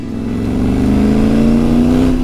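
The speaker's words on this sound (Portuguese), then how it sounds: "Nossa, é muito gostoso o barulho dessa moto" A motorcycle engine revs steadily and loudly up close, its pitch climbing gradually through a sustained throaty roar.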